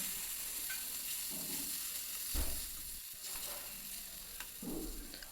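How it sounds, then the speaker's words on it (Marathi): Turmeric and Kashmiri red chilli powder fry gently in oil for a dahi tadka, a quiet steady sizzle with a few soft stirring knocks. "आपलं सगळं साहित्य इथं आता अगदी छानपैकी परतलं आहे"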